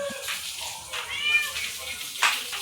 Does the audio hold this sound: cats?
yes